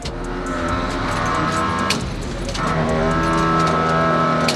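The engine of a donk car runs steadily after being repaired, a continuous rumbling drone that dips briefly and then swells slightly louder, close by and without talk.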